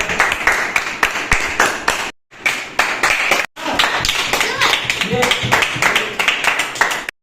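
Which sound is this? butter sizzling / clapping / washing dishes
clapping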